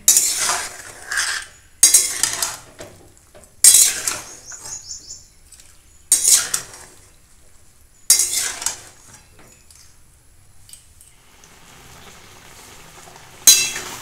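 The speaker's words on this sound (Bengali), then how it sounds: "কেবলমাত্র এইভাবে নেড়ে নেড়ে আমি জলটা শুকিয়ে নেব।" Tomato pulp stirred in a wok to cook off its water, heard as repeated scraping and clattering spatula strokes against the metal in short bursts with quiet gaps between them.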